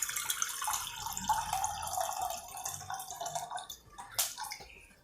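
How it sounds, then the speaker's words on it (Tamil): Water splashes and pours steadily into a cooking pot at close range, with a brief louder splash near the end. "தண்ணி ஊற்றிக்கலாம்."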